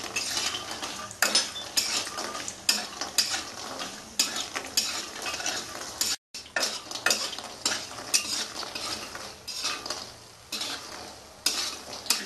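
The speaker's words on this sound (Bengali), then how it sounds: "বড়িগুলো লাল লাল করে ভাজবো।" Bori lentil dumplings fry in hot oil with a constant sizzle, broken by repeated scraping and clattering strokes of a spoon against the pan and one brief silent gap.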